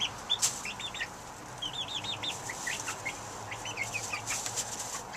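Backyard chickens cluck and give short calls nearby and at a distance on a summer day, a scattered run of clucks over a soft steady outdoor hum, with no talking.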